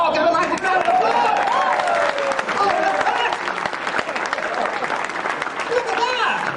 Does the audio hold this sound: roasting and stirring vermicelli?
no